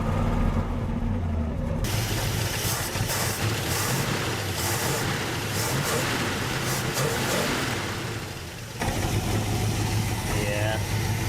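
A 1967 Buick GS 340 with unhappy spark plugs and an ignition fault idles roughly and loudly up close, with a dip near the end before the engine note picks back up.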